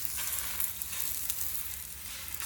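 Steady, bright sizzle of a paratha frying in a little ghee on a hot pan, continuous and close with no voices.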